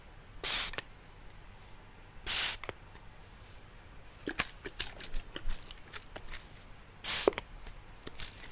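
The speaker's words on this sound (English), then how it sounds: "You like the spray sound." Short hissing bursts from a spray bottle, three distinct sprays spaced apart, close and crisp, with light handling clicks and taps between them in a quiet ASMR setting.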